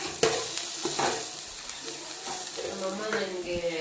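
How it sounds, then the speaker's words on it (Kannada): Momo filling cooking in a pan at home, with a soft, steady sizzle and occasional stirring scrapes and clinks close by, fairly quiet with some faint voices in the background. "ಅಲ್ಲಿ ಇದು ಬೇಯ್ತಾ ಇದೆ ಇದು ಮೋಮೋಸ್ಗೆ ಒಳಗಡೆ ಹಾಕಕ್ಕೆ ಅದು ಮಾಡ್ತಾ ಇದ್ದೆ"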